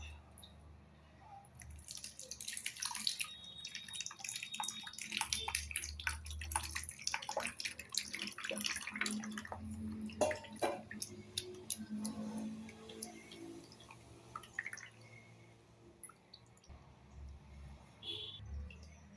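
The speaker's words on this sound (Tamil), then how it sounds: "இந்த ரசத்தை இன்னொரு தடவை வடிச்சிடுவோம்" Homemade South Indian rasam is strained through a strainer in a quiet kitchen, with soft trickling and scattered drips and light clinks that come and go at low volume.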